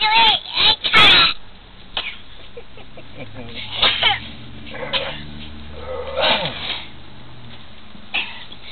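A person imitates a cat's meow with a few short, strained vocal yowls and coughing, throat-clearing noises spread across the stretch, loud and close, with bits of talk between them.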